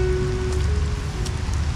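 Steady rain falling at a campsite beside a waterfall at Curug Awi Langit in Ciwidey, a constant dense patter with low rumble throughout, close and moderately loud with no voices.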